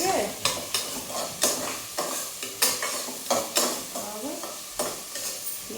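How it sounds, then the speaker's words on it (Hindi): Chopped onion and tomato frying in a pan, a steady sizzle punctuated by regular scraping stirs roughly every second, close and clear with no talking. "ये हमारा प्याज टमाटर जब तक भून रहा है"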